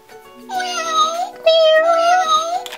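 Wicked Cool Toys Cat Paw toy gives two long, loud, drawn-out electronic meows in quick succession, each rising and falling in pitch, with no talking over them.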